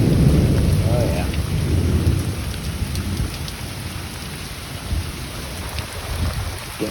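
Heavy rain pouring down outside on a June day, a loud steady wash of drops with a deep thunder rumble at the start that slowly fades under the constant downpour.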